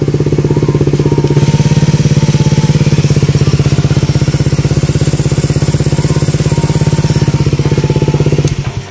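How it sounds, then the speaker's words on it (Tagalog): A motorcycle engine fitted with a 38mm throttle body runs steadily close to the microphone, a loud, even idle with a rapid regular firing pulse and a low hum, cutting off near the end. "tahimik pa ng makina"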